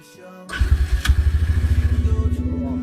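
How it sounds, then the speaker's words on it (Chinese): A motorcycle engine kicks in loudly and runs with a rapid, chugging putter close by on a rural roadside, steady after a sharp start. "看那儿有个摩托车。"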